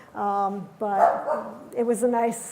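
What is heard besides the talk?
dog barking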